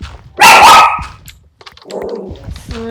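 A dog gives one loud, close bark followed by softer yips and a brief whine, heard indoors near a microphone while someone plays Minecraft.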